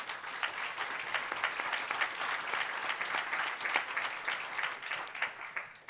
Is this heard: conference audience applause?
yes